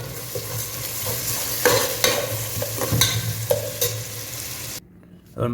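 Onions and green chillies frying in a pan, a dense sizzle broken by repeated scraping and clattering of a stirring spoon, close and loud, with a brief drop near the end.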